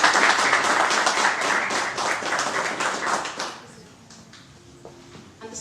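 An audience at a book presentation in Comitán de Domínguez, Chiapas, breaks into loud, dense applause that keeps going steadily for about three seconds and then fades to scattered claps and room noise.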